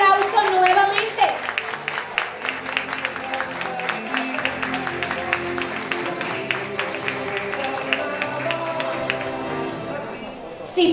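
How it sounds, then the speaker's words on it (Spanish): Audience clapping at a government Women's Day recognition ceremony, individual claps audible in a loose rhythm beneath a speaking voice and background music. "fuerte el aplauso nuevamente"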